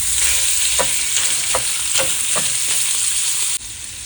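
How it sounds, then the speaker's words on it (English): Sausage fries in a pan with a steady bright sizzle while a utensil scrambles it in several soft scraping strokes, the hiss dropping slightly near the end; no voices. "I'm just going to give it a little light scramble until it's all nice and done"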